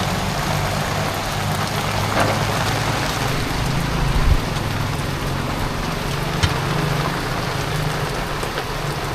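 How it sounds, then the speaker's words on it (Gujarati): Steady heavy rain pours down over a roadside tea stall in the Mota Varachha area of Surat, a dense continuous hiss with a faint low idling engine underneath and no voices. "જો વરસાદ કેવો આવે એ"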